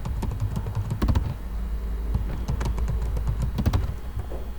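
Rapid clicking of keys on a computer keyboard, typed in irregular bursts at close range with a steady room hum beneath.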